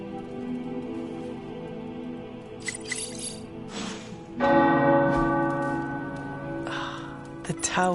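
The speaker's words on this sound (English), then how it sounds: "The tower bells are ringing." Tower church bells ring out in the Marvel Midnight Suns game, a steady run of overlapping resonant tolls that swell louder partway through and hang in a long ringing wash.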